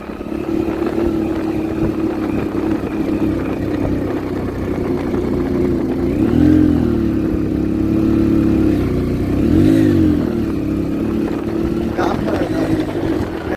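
A motorcycle climbs the Raghuveer Ghat mountain road, its engine droning steadily close by with a couple of brief rises in revs, while muffled voices are faintly present.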